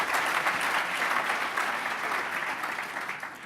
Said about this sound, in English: So a round of applause, ladies and gentlemen.